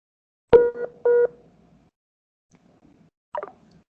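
Telephone keypad dialing tones, two short electronic beeps close together followed after a quiet pause by a fainter third blip, heard near and alone.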